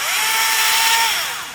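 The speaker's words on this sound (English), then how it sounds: "start chopping away and using the Milwaukee saw" Milwaukee chainsaw cutting through overgrown plants, a loud continuous whine that holds steady and then trails off at the end.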